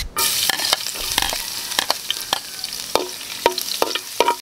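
A pan sizzles loudly as ingredients for gisa are sautéed, with irregular scraping strokes of a spoon across the pan, close and continuous, no talking.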